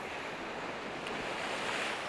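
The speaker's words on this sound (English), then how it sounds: "I am just shooting these rocks in front of me, and they are being hit by really strong waves" Strong waves crash steadily against seaside rocks at Dingalan, a continuous loud wash of surf and spray with wind noise on the microphone and no voices.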